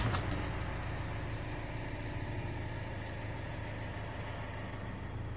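A car engine idles with reverse gear engaged, a steady low hum running unbroken and alone, with one short click right at the start.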